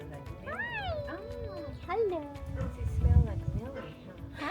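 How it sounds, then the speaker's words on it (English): A friendly stray tomcat in a traditional Japanese town meows several times in rising, drawn-out calls, close by, while someone talks over and between the cries. "Tama is Noriko's stray cat that she has somehow adopted."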